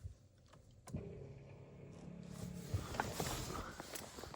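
A windshield wiper motor on a 2015 Jeep Patriot starts up after a brief click, then runs with a steady mechanical whir and rising noise, heard close up with no talking.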